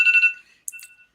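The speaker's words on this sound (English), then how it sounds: "And there goes the alarm." A short electronic alert tone on a trading setup chimes in quick pulses, then fades, followed by a brief higher ding, clear and close with no speech.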